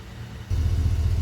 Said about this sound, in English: that MagnaFlow exhaust is so deep and so mellow outside the truck